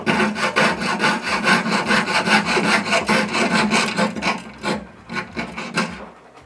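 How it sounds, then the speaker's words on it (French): Close-up rhythmic sawing with a jeweller's saw frame cuts 925 silver wire for handmade earrings, with fast, even back-and-forth strokes that slow and thin out toward the end, heard alone without talking. "Je viens découper au bloc fil."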